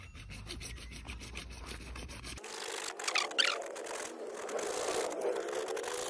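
Saw cutting through a plumbing pipe, heard close as a steady rasping, grinding stroke sound that changes tone partway through and then continues unbroken.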